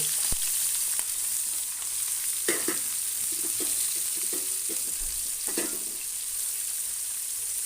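Onions and green chillies frying in a pan, a steady close sizzle throughout with occasional stirring clatters, no talking.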